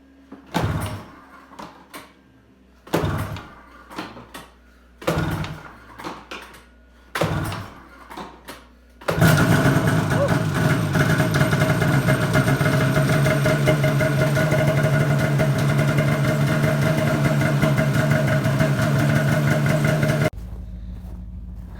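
A freshly rebuilt race engine with a new top end and new plugs, on a Polaris Assault 850 snowmobile, cranks over in several short bursts with pauses, then fires and settles into a loud, steady, rough idle close by.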